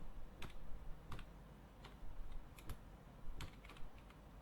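Keystrokes on a computer keyboard, including Tab presses, while a table is typed into a document: a sparse, irregular run of sharp, close clicks over a quiet room hum.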